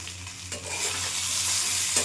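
Squash and pabda fish curry sautéing in a pan, a steady close sizzle with stirring scrapes running throughout and a brief louder stir near the start and end.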